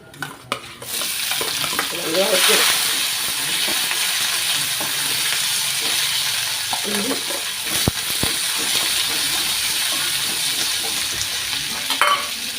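Onion, green chili and garlic sizzle steadily in a hot pan, with a constant close frying hiss broken by occasional stirring scrapes and clinks.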